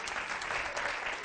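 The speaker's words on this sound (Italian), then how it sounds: "per questo applauso che calza a pennello" An audience at an Italian comedy show claps briefly, a thick, steady patter of hands held at an even level through the short moment, with nothing else heard over it.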